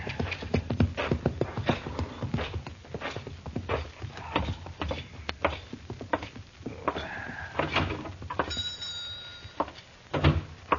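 Horse hooves clip-clop in a steady walking rhythm throughout, close and fairly loud, as a radio-drama sound effect in a 1953 Western set on the prairie; a brief bell-like ring cuts in near the end.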